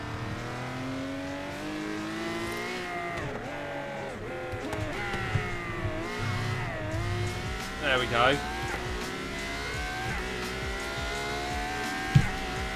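A supercar engine in Forza Horizon 3 drones and revs steadily, its pitch rising and falling in smooth sweeps with harmonic layers, while a voice speaks briefly over it and a short sharp click lands near the end.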